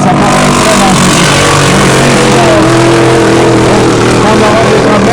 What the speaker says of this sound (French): du côté de Mike Weber, si on se fie au son du moteur